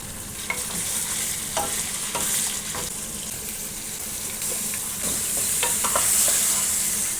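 Chicken sizzles steadily in a pot while a utensil scrapes and stirs now and then, occasional light clinks over the hiss, no talking.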